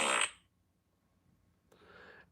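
A short fart sound effect from a jailbreak tweak on an iPhone bursts out briefly, then silence, followed by a quieter, breathy second fart noise.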